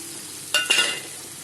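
Spice paste of Kashmiri chilli powder, turmeric, cumin powder and a little sugar sautéed in a pan: two quick bursts of sizzle and stirring close by, then a steady soft background hiss.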